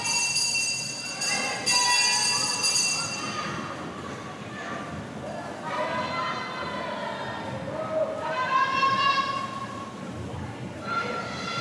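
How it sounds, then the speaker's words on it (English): A bell rung to mark the final lap at a youth swim meet in a noisy, echoing pool hall, ringing as bright repeated tones over crowd cheering and a commentator's voice. "Here we are at the bell for Jules."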